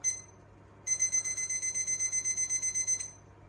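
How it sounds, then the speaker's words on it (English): Kitchen timer set for oven baking sounds off after a quiet moment, a rapid string of shrill, evenly spaced beeps lasting about two seconds before cutting out, alone in a quiet room. "Don't forget to set a timer."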